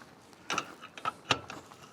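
Socket wrench ratcheting while working on truck parts on a Ford F600 box truck, heard as a few short clicking bursts at close range with no talk.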